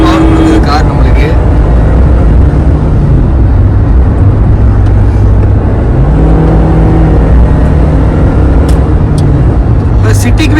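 A Maruti Suzuki Jimny in drive mode pulls hard, its engine note rising and shifting in steady steps over continuous road and wind noise, loud and close from inside the cabin, with no one speaking.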